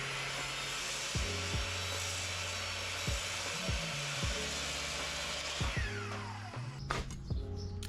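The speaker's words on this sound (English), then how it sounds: "Now I'm going to move on to cutting all my leg pieces." Birch wood leg pieces for a bookshelf being cut with a power saw, a loud continuous whine with the blade biting through the wood, several cuts with brief changes in pitch and a spin-down near the end.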